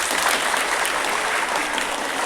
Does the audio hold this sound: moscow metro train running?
no